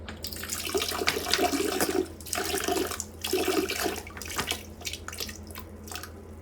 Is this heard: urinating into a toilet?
yes